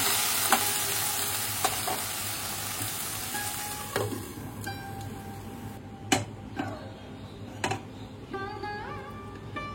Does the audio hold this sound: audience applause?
no